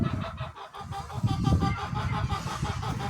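Roosters and hens, seven roosters and three hens of fighting breeds, call loudly and close by, with overlapping crows and clucks in an uneven, continuous chorus.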